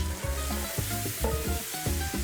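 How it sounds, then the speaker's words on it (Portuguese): Black beans, soaked for four hours, go into a pan of golden-browned garlic and are stirred, giving a steady close sizzle with repeated scraping stir strokes. "Depois de tudo dourado, eu vou adicionar o nosso feijão preto."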